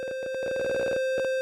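Harsh electronic bat sound effect from the Atari game Real Sports Baseball: a buzzy, steady-pitched beeping tone chopped into rapid pulses, loud and alone, lasting about a second and a half.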